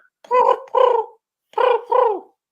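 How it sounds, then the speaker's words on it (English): A pigeon sound played from a button, two paired cooing calls, each a throaty double coo, clear and close against silence. "does that sound like a pigeon?"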